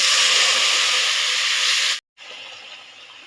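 Water hits a hot pan of katla fish curry and bursts into a loud, hissing sizzle that cuts off abruptly, then resumes as a softer, fading simmer-hiss.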